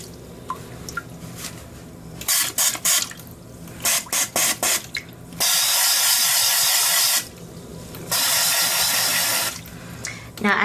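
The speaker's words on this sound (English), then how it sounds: "as you're spraying, you can hold it flush and you kind of shake and move the sprayer around" A BumGenius cloth diaper sprayer blasts water into a toilet in several bursts: a few short sputtering sprays, then two long steady hissing streams, close and loud.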